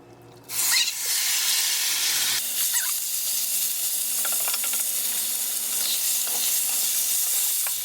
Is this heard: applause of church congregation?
no